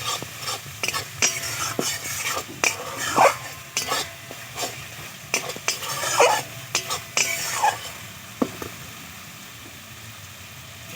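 Fish curry paste with poppy seed and melon seed is sautéed in a pan: gentle frying sizzle beneath repeated scraping and clattering of a utensil stirring against the pan.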